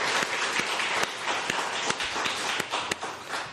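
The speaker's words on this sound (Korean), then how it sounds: "우리 하나님께 영광의 박수 한번 하겠습니다" A church congregation claps together in praise during a Sunday afternoon worship service, a steady dense wash of many hands with a few sharper individual claps standing out, fairly close and continuous throughout.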